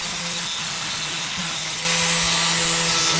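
A power tool grinding wheel works on a Chevelle car frame during a Hellwig frame kit install, a loud, steady broadband whir that rises sharply in intensity partway through as the wheel bites harder, with no talking.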